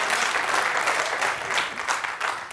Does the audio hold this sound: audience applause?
yes